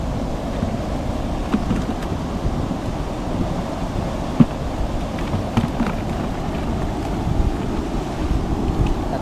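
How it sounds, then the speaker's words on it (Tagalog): Steady wind buffets the microphone outdoors, a continuous rumbling gust with faint water sounds and a few small knocks. "Hangin na ng masarap."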